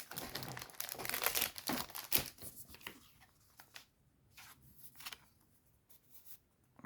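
Pokémon card booster pack wrapper torn open, crinkly plastic tearing and rustling loud at first, then fading into quieter handling noises.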